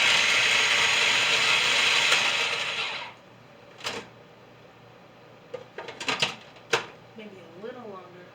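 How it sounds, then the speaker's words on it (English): A food processor chops onions on low speed with a steady whirring, rattling roar for about three seconds, then stops, followed by scattered clicks and clatter of the machine. "I'm using the food processor, and I'm going to use low so I can like see where it's going"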